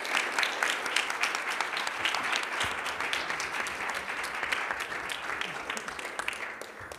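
Audience applause closing a plenary session of an internet forum in Brazil, a loud, dense and continuous wash of clapping that holds steady from start to finish.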